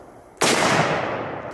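A single loud rifle gunshot from a large-calibre rifle, a sharp blast close by followed by a long, slowly fading echo tail.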